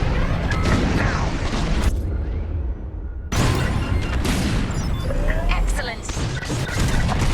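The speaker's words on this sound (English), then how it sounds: "On my mark, it's bombs away." Bombs drop and burst in a space-combat dogfight in Star Wars Squadrons, a dense run of loud booms and blasts over engine roar with a brief lull midway before heavy explosions resume.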